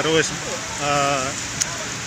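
Steady rain patters and hisses in the background while people talk over it, in a queue at a roadside food stall beside a highway.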